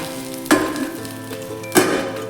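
Stuffed bell peppers sizzle in masala in a covered pan, a steady frying hiss with two louder bursts of sizzle, close and with no talking.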